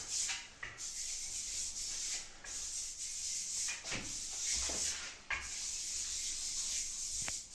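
Decorative plaster is rubbed across a wall in looping figure-eight strokes, making repeated close, gritty scraping sweeps with brief pauses between passes. No one speaks.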